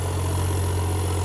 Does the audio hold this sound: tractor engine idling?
yes